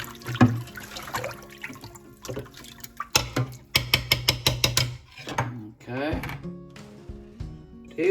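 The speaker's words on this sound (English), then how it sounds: "now I'm going to stir that up, and hopefully it will dissolve in the water." Salt is stirred into water in a container to make brine for capelin, giving irregular splashing and sloshing with clinking bursts, close by, and a voice speaking at moments.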